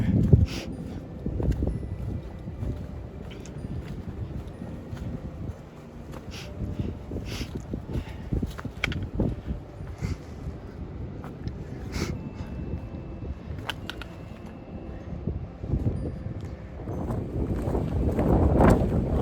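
Breezy wind gusting along a forest hiking trail, rumbling buffets against the microphone that rise and fall irregularly, fairly close and steady with a stronger gust at the end.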